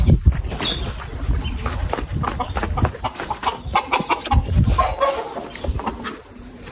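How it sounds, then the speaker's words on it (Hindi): Aseel chickens scuffling and clucking nearby, with bursts of agitated clucks, flapping and scratching in a busy, uneven stream. "मुर्गियां लड़ पड़ी आपसे।"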